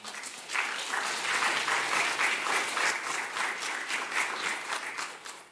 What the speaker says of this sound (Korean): 박수 한번 하자.